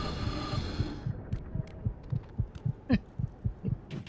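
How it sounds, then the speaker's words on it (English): Heartbeat pounding at low health in the God of War video game: loud, steady, rhythmic low thumps repeat throughout, with a brief sweeping whoosh near the end. "the heartbeat just pounds in my head because I'm going to die"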